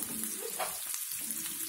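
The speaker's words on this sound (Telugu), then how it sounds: "ఇవి బాగా వేయించుకున్నాను." Thinly sliced onions fry in hot oil in a pan, giving a soft, steady sizzle with brief stirring scrapes, quiet and close, with no talking.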